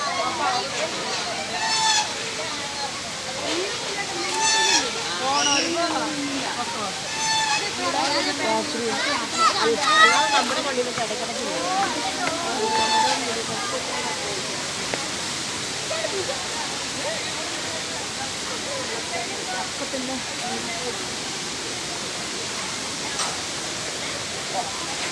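A waterfall sends out a steady, broad rush of falling water, close and continuous, while people talk over it.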